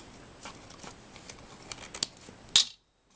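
Scissors snip through a paper card panel for a Valentine's Day card, a series of faint, crisp cuts with a sharper snap near the end before the sound stops.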